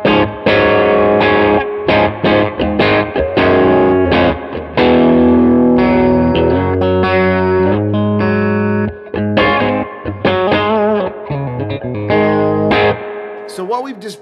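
A clean electric guitar through a Carr Super Bee amp set to a '68 Super Reverb-style sound plays chords and single-note runs with a spacious reverb tail, loud and up front, ending with brief silence.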